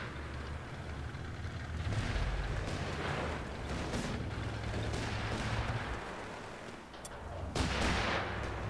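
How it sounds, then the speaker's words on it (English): Heavy gunfire and artillery rumble on through a Company of Heroes 3 battle in the Italian invasion, loud and dense, with steady low booms under a wash of crackling shots and sharper bursts near the end. "Taking heavy enemy fire here!"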